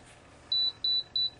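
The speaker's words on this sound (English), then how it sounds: "give you a couple of beeps to verify" Three short, high-pitched electronic confirmation beeps from a Spektrum DX6i radio transmitter at an even pace, clean and close, with quiet background between them.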